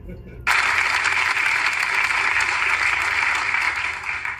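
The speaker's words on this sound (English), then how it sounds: "all right, let's clap." Broadband applause from a neutral studio crowd comes in abruptly after a brief lull and holds steady, loud and dense, for several seconds.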